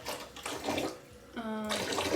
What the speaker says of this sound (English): So I'm gonna pour some bleach in here.